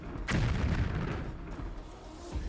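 A deep explosion booms after a military vehicle is hit on a road, a single heavy blast with a rumbling tail, then a fainter thud near the end, heard from a distance.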